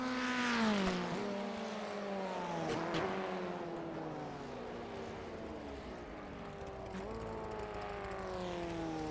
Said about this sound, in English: Cav leads a tight group home as positions P4 through P8 all finish together.